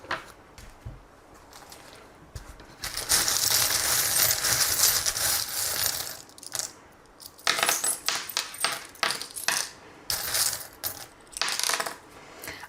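Small metal charms used in tarot reading are shaken and tossed, a long rattling jingle of clinking metal followed by repeated bursts of clatter and tinkling as they fall and settle, close and fairly loud.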